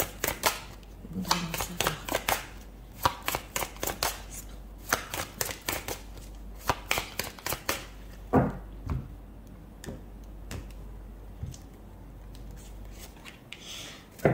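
Tarot cards shuffled and dealt onto a table during a card reading: a long run of quick, crisp riffles and flicks, close and fairly loud, then sparser single card slaps laid down, with no voice.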